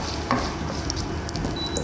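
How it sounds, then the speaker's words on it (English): Chilies frying in hot oil in a pan for piri piri rice, a steady close crackling sizzle that runs throughout with a few faint stirring clicks. "I'm going to let that sizzle for a bit"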